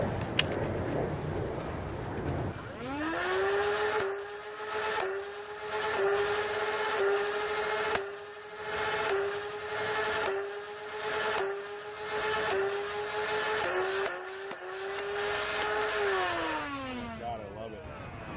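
A Nerf Rival Zeus flywheel blaster firing stock Rival rounds: the motors whine up to a steady high hum, then a rapid run of regularly pulsing shots continues for over ten seconds before the whine winds down.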